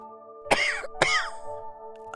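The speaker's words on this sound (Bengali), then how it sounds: "কাশতে কাশতে উঠে বসল" Two sharp, close coughs about half a second apart, then a faint rough sound near the end, over a steady low hum.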